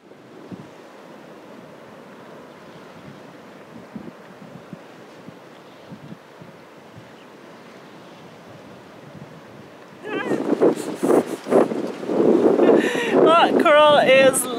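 Wind buffets the microphone at a seaside monument on a cape, a constant rushing roar with surf behind it, then louder gusts and voices talking near the end.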